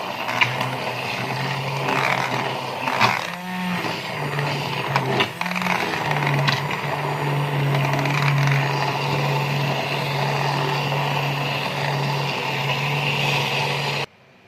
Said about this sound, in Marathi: ही भाजी मी हँड मिक्सरनं लोणून घेते